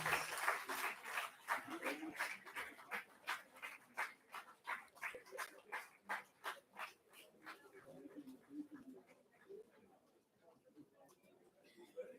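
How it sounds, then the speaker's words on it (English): An alumni meet audience in a hall gives applause that builds into a steady rhythmic beat of clapping, strong at first and gradually thinning and fading, with faint voices underneath. "Guys, a round loud applause, please."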